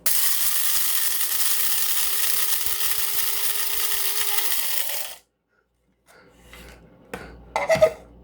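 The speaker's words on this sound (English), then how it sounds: "So I use a little grinder. I guess it's a coffee grinder or whatever, and I grind my own pepper." A small electric coffee grinder grinding pepper whirs steadily for about five seconds, then stops; after a pause, faint clicks and rattling handling noises follow.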